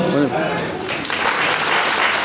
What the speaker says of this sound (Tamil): எனவே எங்கே உங்களுடைய கரகோஷம்